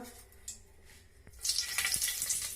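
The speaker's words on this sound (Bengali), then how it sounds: "এবার আমি এর মধ্যে দিয়ে দিচ্ছি একটি তেজপাতা" Bay leaf dropped into hot ghee and oil in a pan, setting off a bright hissing sizzle that swells partway through and carries on steadily to the end.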